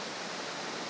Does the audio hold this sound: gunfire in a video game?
no